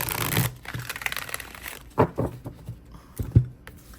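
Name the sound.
shuffling oracle and rune cards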